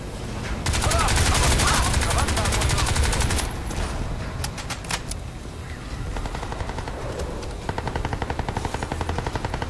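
Sustained automatic gunfire and rapid bursts in the video game Crysis 2, loud and dense, ending in fast rhythmic shots, with a voice talking over it at times.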